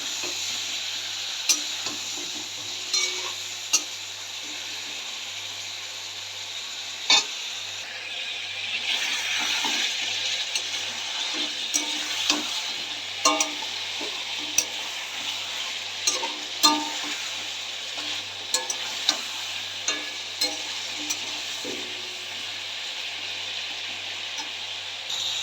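Chicken pieces fry in a pan with a steady close sizzle, broken by frequent clinks and scrapes of a spoon stirring against the metal. No voices are heard.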